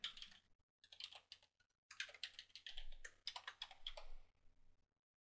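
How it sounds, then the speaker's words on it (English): Username and password typed on a computer keyboard, heard as close, crisp bursts of rapid key clicks separated by brief silent pauses, with no talk. "we're going to type in the username and password"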